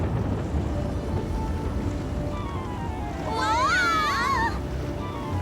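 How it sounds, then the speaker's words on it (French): A cartoon sound effect of a windstorm at sea rocking a sailboat: a constant roar of waves and wind, with whistling, wavering gusts swelling partway through. "Mais le vent se mit à souffler."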